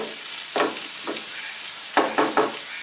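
Bitter gourd being stir-fried in a pan on medium flame: a soft, faint sizzle with a few light spatula stirs, one near the start and a quick cluster of three toward the end.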